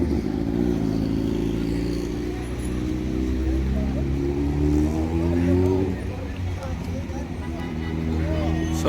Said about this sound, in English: You can hear the revs. This is nightlife in Medina.